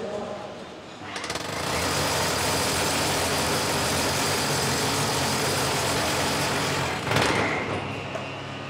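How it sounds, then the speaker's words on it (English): A loud, steady rotary drilling roar from a test machine simulating drilling into concrete runs continuously for several seconds, close up, with a brief change in pitch near the end. "This machine is simulating a drilling process into concrete"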